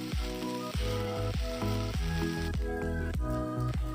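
Leftover idli pieces fry in hot oil in a pan for crispy masala idli, giving a steady, close sizzle that runs throughout beneath a bed of rhythmic background music.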